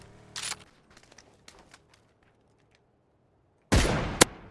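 Two short bursts of game gunfire, one near the start and a louder one near the end, with faint clicks and near silence between.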